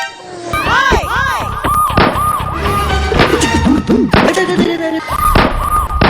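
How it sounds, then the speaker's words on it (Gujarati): Loud gunshot-like bangs crack repeatedly amid a busy scene with music and people talking. "આ તો બંદૂક ફોડે"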